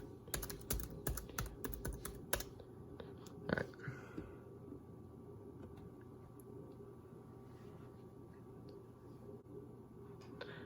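Password typed on a computer keyboard, a quick burst of close, crisp key clicks for a few seconds, then a couple of isolated taps over quiet room hiss.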